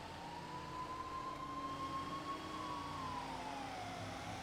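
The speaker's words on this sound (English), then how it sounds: "I could hear the sirens not getting any further away, but not any closer." Emergency vehicle sirens wailing in the distance, a long rising and falling tone over a steady background hum, faint and continuous with no voices.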